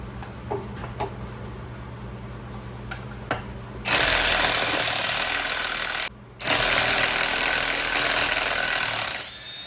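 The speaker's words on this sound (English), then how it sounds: "If you're trying to work past that Loctite, you got an impact." Impact wrench on the rear driveshaft bolts of a 2010-2016 Cadillac SRX: a few faint ticks, then a loud continuous hammering rattle in two bursts with a brief gap between them, close and with no talk.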